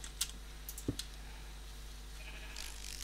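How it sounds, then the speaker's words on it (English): A sheep bleats in the Minecraft video game, a short faint call among soft clicks of keyboard typing over a steady low hum. "What are you doing in there, Mr. Sheep?"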